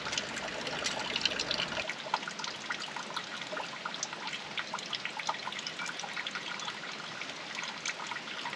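Coolant water drains from the heater pipes of a Toyota in a faint, steady trickle with scattered drips, running continuously and quietly with no voices.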